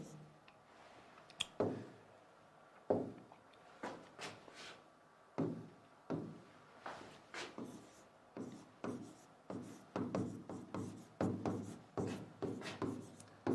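Marker strokes on a classroom board as a topic name is written out during an English grammar lesson, coming in quick rhythmic bursts of scratchy squeaks and taps that grow denser toward the end, close and fairly clear.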